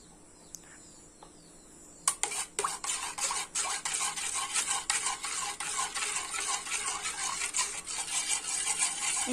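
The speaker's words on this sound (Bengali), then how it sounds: "এবার এর সঙ্গে ডিমের মিশ্রণটা খুব ভালোভাবে মিশিয়ে নেব।" Egg mixture being stirred into thickened, sweetened milk for egg pudding, a steady run of soft utensil scrapes and light clinks against a bowl that starts after a quiet opening and continues close by to the end.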